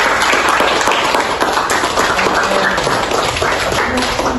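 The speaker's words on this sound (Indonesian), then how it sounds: "Kasih aplaus." A classroom of high school students applauding together, steady dense clapping throughout at close range with no pauses.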